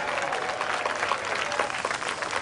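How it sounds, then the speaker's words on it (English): An audience applauds, a dense steady patter of clapping at moderate volume that fills the whole moment. "I'll give him a round of applause."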